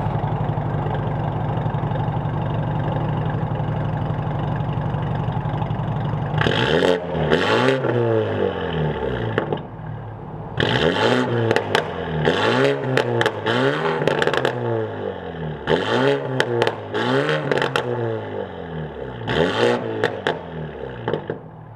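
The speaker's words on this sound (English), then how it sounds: "So the red car has a full Valvetronic system as well. It's got a decatted downpipe." A car with a full Valvetronic exhaust and a decatted downpipe idles steadily, then revs hard in repeated sharp blips, each rising and falling quickly with brief pauses between, loud and close.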